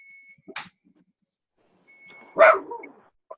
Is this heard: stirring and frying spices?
no